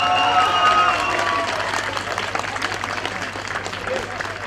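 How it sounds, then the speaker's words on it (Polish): Audience applause for the first-place harvest festival wreath at a Polish dożynki ceremony, a steady wash of clapping that starts strong and gradually thins, with a voice heard over it. "Pierwsze miejsce. Wielkie brawa."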